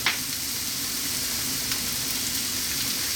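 Mushrooms sizzle steadily in a pan over above-medium heat for an omelette, seasoned with salt and black pepper; a close, continuous frying hiss with a brief stir at the start and no talking.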